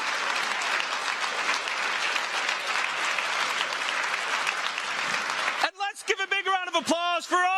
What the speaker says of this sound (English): of applause for all of our contestants tonight